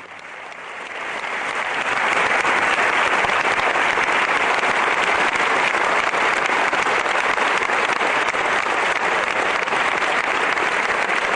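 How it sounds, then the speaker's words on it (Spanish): Sustained, loud applause from a large crowd of about 300 Catalan police officers, swelling over the first couple of seconds and then holding steady and dense. "300 Mossos d'Esquadra aplaudiendo a rabiar"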